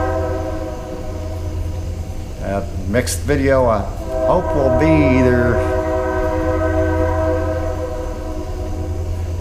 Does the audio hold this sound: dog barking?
no